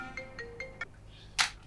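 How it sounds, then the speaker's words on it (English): A mobile phone ringtone plays close by, a quick run of bright repeating electronic tones in a short rhythmic pattern, followed by a brief soft rustle and a sharp burst of noise. "Oh, my phone is ringing."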